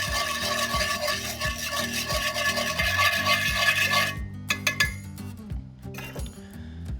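A utensil stirs buttermilk in a bowl to make chicken fried steak. It clinks against the sides in a quick, steady rhythm, close and fairly loud, then slows to a few scattered taps.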